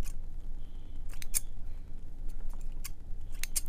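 Scissors snip away parts of an Xbox 360 wired controller's casing and wiring, giving several sharp, separate clicks spread unevenly over a quiet background.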